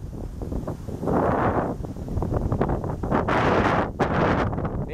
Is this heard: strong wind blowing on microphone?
yes